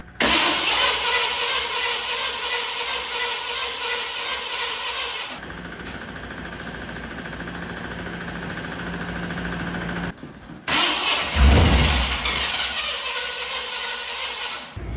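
A 1987 Ford Bronco with a gummed-up, varnished carburetor cranks and fires, running loud and rough before dropping to a ragged, lower idle, then cutting out briefly and catching again with a burst of revving.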